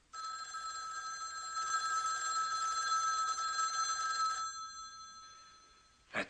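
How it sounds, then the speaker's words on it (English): A telephone bell ringing, a sustained metallic trill lasting several seconds before cutting off, followed by a faint tail and a brief knock at the end. "Or that telephone ringing."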